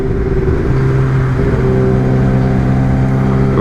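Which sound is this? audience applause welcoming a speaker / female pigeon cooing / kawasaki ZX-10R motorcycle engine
kawasaki ZX-10R motorcycle engine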